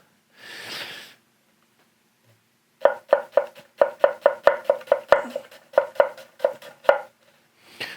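A santoku knife chops through an onion on a board in a quick run of sharp, evenly spaced thuds, close and crisp, after a brief soft rustle.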